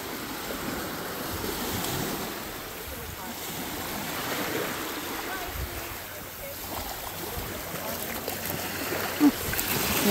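Ocean surf at Tonquin Beach in Tofino roars as a steady broadband wash with wind buffeting the microphone, continuous and fairly loud throughout.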